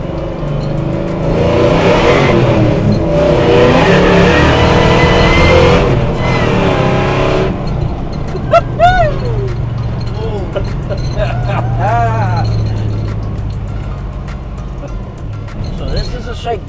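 A supercharged LT4 650 hp 1971 Chevrolet Chevelle SS with a five-speed TKX gearbox drives on the road, its low engine rumble running steadily throughout while people talk over the first half.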